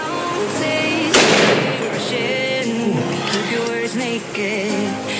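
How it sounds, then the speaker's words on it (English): A 300 Win Mag rifle fired at a heavy padlock, one loud close sharp blast with a ringing tail, followed by people talking over outdoor background noise. "Here we go, 300 Win Mag versus the lock."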